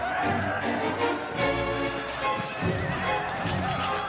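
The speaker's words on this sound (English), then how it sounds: "The Norman cavalry charge" Norman cavalry horses whinny and neigh amid the rumble of a charge in a medieval battle, loud and close in a dense, continuous mix.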